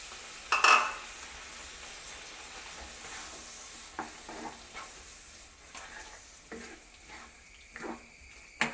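Chopped chicken sausage added to coconut milk in a pan, with a sharp clatter near the start, then faint scattered stirring scrapes and soft bubbling at a quiet, close level.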